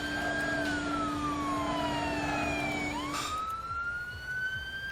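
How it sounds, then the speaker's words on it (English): Emergency vehicle sirens in the video game Emergency 4, several loud wailing tones sweeping up and down together, one dropping out partway before another rises again. "Just listening to all those sirens."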